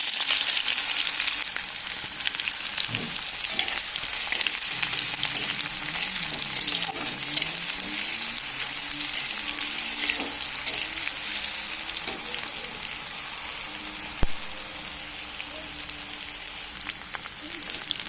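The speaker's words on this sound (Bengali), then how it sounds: "এবার আমি দিয়ে দেবো এর মধ্যে কুচনো পেঁয়াজ।" Steady hissing sizzle of chopped onions frying in hot mustard oil for a meat curry, continuous and close, with occasional stirring clinks and faint talk in the background.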